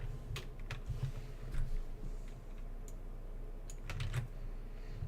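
Fingers type code on a computer keyboard, a close run of light, irregular key clicks in short bursts with brief pauses between them, no talking.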